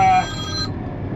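A telephone rings once in a short burst that cuts off, then a low background hum continues, near a crane repair job.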